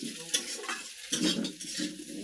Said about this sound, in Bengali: এই পাস্তাটা ঢেলে দিলাম।